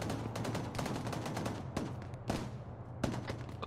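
Sustained gunfire from the military shooter game Arma 3, dense overlapping rifle and machine-gun bursts with several louder sharp cracks standing out, continuous and fairly close throughout.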